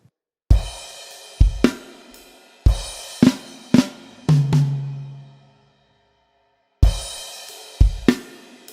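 Drum kit playing the final bar of a song: a run of sharp close hits with ringing cymbal wash and a tom ring, a silent pause, then two more crisp strikes, no talk.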